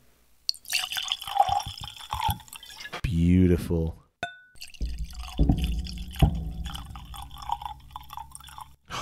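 Knappogue Castle 12 Year Irish whiskey glugs out of its bottle into a glass, a short liquid pour between bursts of nearby talk, with people speaking before and after.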